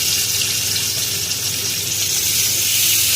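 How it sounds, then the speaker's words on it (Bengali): Small chara pona fish frying in hot oil, a steady loud sizzle and hiss that holds without a break, close up. "এটা হচ্ছে চারাপোনা, অল্প করে এনেছিল, এটা শুধু ভাজাই করবো"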